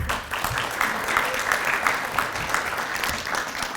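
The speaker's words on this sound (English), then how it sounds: "I love the clapping" Steady applause from a crowd at a university research award ceremony, a continuous dense patter of many hands at moderate loudness that holds without a break.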